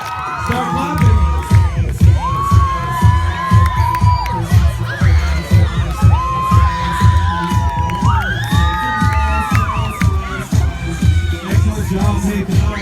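A crowd of schoolchildren at a school assembly with a bike performer claps and cheers loudly, with sharp overlapping claps, high-pitched shouts and whoops rising and falling throughout.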